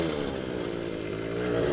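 A new Soviet Riga Mini RMZ 30 moped engine buzzes while being ridden, a steady, close, high-pitched two-stroke drone that swells slightly toward the end.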